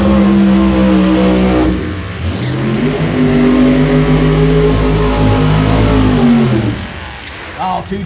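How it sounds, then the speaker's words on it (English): Funny car engines roar in burnouts at a drag race at Keystone Raceway Park, a loud sustained blare with rising and falling revs, close and overwhelming throughout. "Two tremendous burnouts."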